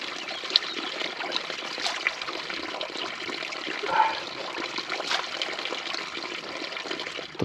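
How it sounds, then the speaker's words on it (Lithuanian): Icy water trickles steadily along the Rossfeld Panorama Strasse mountain route, a continuous close, gentle flow with small splashes and no other sounds standing out. "Ledinis vanduo."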